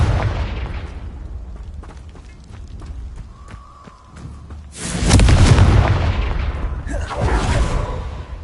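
A Confringo spell blast in Hogwarts Legacy on PS5, a loud booming explosion landing midway after quieter spell sounds, followed by a second burst with a lingering rumble.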